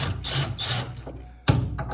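A power drill drives screws into a refrigerator door during a door-swing reversal, giving two quick whirring bursts back to back, a short pause, then a sharper third burst, all close and fairly quiet.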